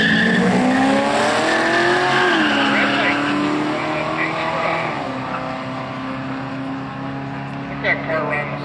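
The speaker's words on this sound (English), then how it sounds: "That's Shane Whitford from Saskatoon, his 88 Ford Mustang." Engines roar and whine with shifting pitch as drag race cars, including a 1988 Ford Mustang, rev and run, with a tire squeal, while an announcer talks over the noise.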